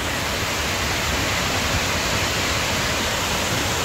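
Kuang Si waterfall in Laos, the largest falls there, roars in a steady, dense, unbroken rush of water close by, filling the air with constant broadband noise and no voices.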